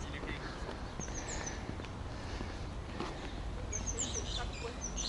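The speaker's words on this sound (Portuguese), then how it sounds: "Ouço uns passarinhos ali para aquele lado." Small birds chirp in short, faint bursts at a distance in Gibraltar Botanic Gardens, scattered calls over a soft outdoor background with light footsteps.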